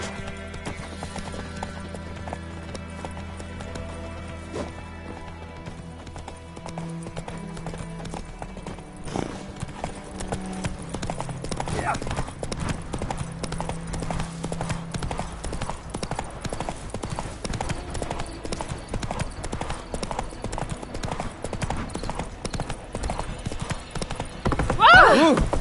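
Steady rhythmic hoofbeats of the horse Roach galloping in The Witcher 3 game, with a whinny and game music or ambience; someone speaks over it.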